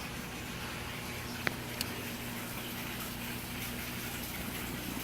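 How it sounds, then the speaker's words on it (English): Constant gushing of water pouring into an aquaponic fish tank during a water change, steady and moderately close, with a couple of faint clicks partway through. "my tank over here is down. Filling it up now"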